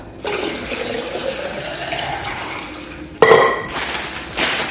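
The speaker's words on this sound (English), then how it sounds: "Let's give them a little tip of water." Water pours steadily onto plants in a continuous splashing stream, pausing briefly before resuming with louder gushes, close and alone without talk.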